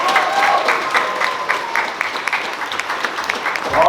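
An audience at a steampunk festival cosplay contest applauds a contestant, a steady crowd clapping that tapers slightly, with a few voices mixed in.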